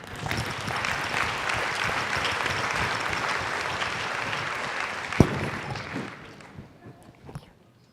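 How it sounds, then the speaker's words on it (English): Sustained applause from an audience at a Catholic Women's League of Canada gathering, steady and dense for several seconds with one sharp thump, then thinning out and fading near the end. "I think we can applaud everyone for being ready."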